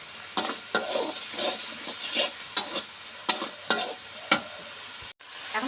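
Spices for a duck curry are stir-fried in a pan, heard as a sizzle under about a dozen rhythmic scraping strokes of a spoon, close by and with no voices.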